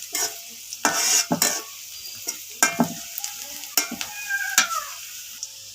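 Onions frying in a pan for a drumstick dal, with repeated scraping stirs over a light, steady sizzle; the stirring comes in uneven bursts, close and fairly clear, with no one talking.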